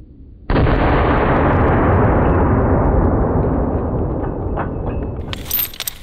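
A 5.56 rifle round is fired at a steel chain: one loud, sudden crack that rings out in a long, slowly decaying echo, with a brief clatter just before the end.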